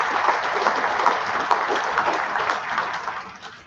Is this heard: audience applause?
yes